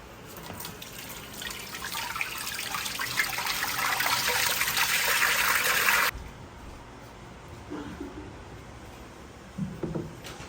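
Thick tomato gravy pours out of an extraction machine in a steady, wet rushing stream that builds for about six seconds and then cuts off abruptly, followed by a quieter background with a few brief knocks.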